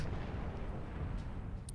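Siege tanks firing in a StarCraft match produce low, rumbling artillery booms that run together into a continuous, fairly faint roar, with a few brief higher crackles near the end.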